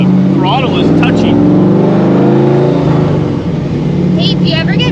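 A 1955 Chevy Nomad gasser's engine revs hard while driving, a loud, rough, throbbing roar that swells and eases with the touchy throttle. Muffled voices come and go over it.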